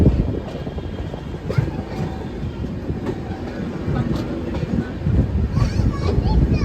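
The Prasanthi Express rumbles into Bangalore Cantonment on a curve, a steady loud rolling of wheels and carriage noise heard from inside the train.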